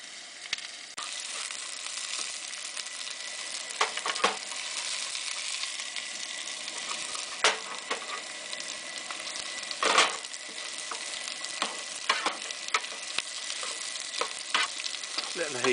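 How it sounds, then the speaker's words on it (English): Vegetables crackle and sizzle in an old stainless steel pan cooked outdoors on a riverbank, a steady close frying hiss punctuated by repeated sharp scraping clicks of stirring. "Letting the heat go through for sort of 5-10 seconds, then stirring it so they don't stick"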